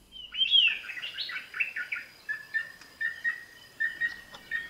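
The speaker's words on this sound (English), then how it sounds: "The greater yellownape is a species of bird in the woodpecker family." Greater yellownape woodpecker calling in Thailand: a rising whistled squeal opens, then a run of clear, repeated chirping notes at a steady rhythm, moderately close with quiet forest background.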